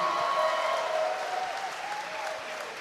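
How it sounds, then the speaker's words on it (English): A crowd at a live MMA event in Pittsburgh, Pennsylvania gives a steady, dense round of applause, heard from a distance as a continuous wash that slowly tapers. "Big round of applause for Daniel Eddy, everybody."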